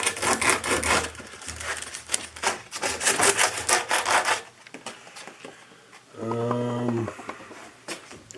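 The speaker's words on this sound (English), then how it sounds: "What's left to do now is give this thing a low grit sand." A copper camera grip is scrubbed with low-grit sandpaper in a quick run of rhythmic back-and-forth rasping strokes. A pause follows, then a short buzzing, droning burst.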